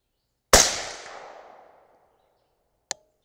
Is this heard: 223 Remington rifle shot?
yes